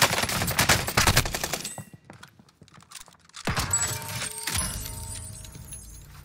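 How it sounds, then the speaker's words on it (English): Gunfire in a Warzone Pacific gunfight: rapid bursts of automatic fire crack loudly at first, fall quiet briefly, then return with more scattered shots and metallic clinks. "that was just a very sloppy gunfight on both ends there"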